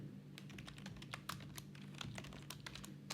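Quiet typing on a computer keyboard while entering an SQL query, a brisk run of soft, irregular key clicks heard close up against a faint background hum.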